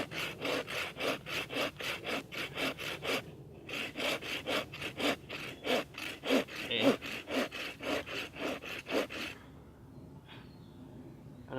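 A knife cuts a notch into a wooden stick for a spring snare trap, making rapid, rhythmic scraping strokes close up, about two per second, with a brief pause partway through before trailing off.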